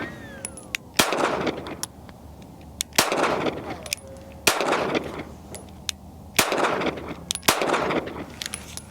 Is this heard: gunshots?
yes